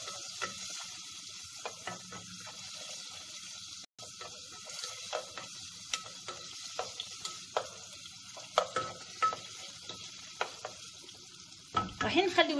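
Meat and a cinnamon stick frying in butter for a sweet meat tagine, a quiet continuous sizzle with scattered crackles and pops that grow busier toward the end.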